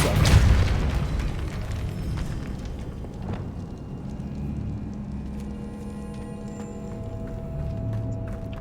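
A Depulso force spell from Hogwarts Legacy lets out a single heavy boom near the start, then fades into a low rumbling ambience with faint scattered clicks and no talk.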